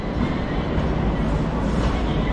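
Toyama Light Rail tram pulling into the low platform at Toyama station, a steady close rumble of wheels and motor with no break, running alone without speech.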